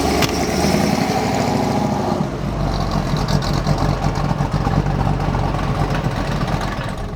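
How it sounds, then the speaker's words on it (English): A 1970 Ford Mustang Fastback with a 408 stroker V8 runs with a loud, steady, deep engine rumble throughout; the note is fuller in the opening two seconds, then settles into an even, continuous drone. "taking the little Mustang out for a drive"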